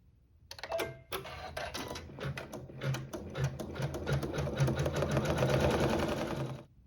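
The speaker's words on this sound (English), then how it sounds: "we'll sew some quilting and our satin stitch" A sewing machine stitches quilting and satin stitch on fabric, a fast rhythmic mechanical whirring in short bursts that build into a steady run before stopping, heard alone without talk.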